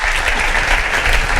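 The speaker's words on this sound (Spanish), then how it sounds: "Vamos a recibir a la cabecera con un aplauso." An indoor audience at a talk event claps in a brief, dense burst of applause, loud and steady with no voices over it.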